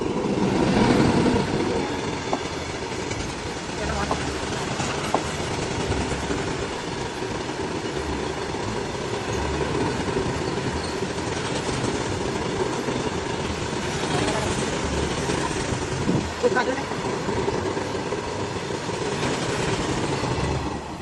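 The West Coast Superfast express, heard on a crowded general-compartment trip from Payyanur to Mangaluru, makes a continuous rumbling roar with rattling clickety-clack and occasional metallic squeaks, sustained and fairly loud throughout.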